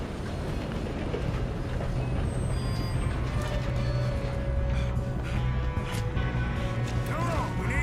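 Train from the video game Red Dead Redemption rumbling steadily throughout, a dense continuous mechanical roar with rattling and occasional higher tones, loud and unbroken.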